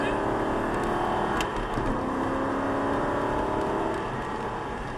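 An Aston Martin V8 Vantage accelerates on a track during a driving course, its engine a steady, loud in-cabin drone and whir with a voice talking over it.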